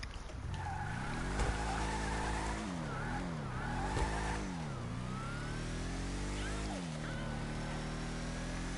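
A video game car engine revs and drones as the car pulls out, with pitch rising and dropping through repeated gear shifts and tyres squealing, loud and continuous throughout.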